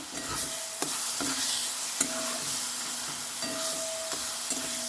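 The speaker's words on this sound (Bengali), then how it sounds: "আমি এটা একটুখানি নাড়িয়ে নিলাম বাটারটা মিশিয়ে নিলাম" Spinach with butter, seasoned with garam masala, is stirred in a hot pan: a continuous sizzle broken by several distinct scraping strokes of the spoon, close up and without any talking.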